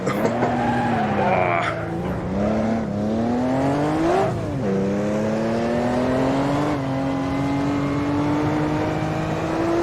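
A 1958 Formula 1 car in the Automobilista racing game screeches through heavy braking at Rouen, its engine note dropping and sliding under loud, continuous tire squeal, then building again as it pulls away. No one speaks.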